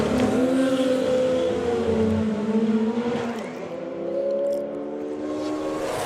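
A drag racing car roars through a pass at a Summer Nationals event, a loud sustained engine howl with shifting pitch that swells and slightly eases across several seconds, heard from trackside with no talking.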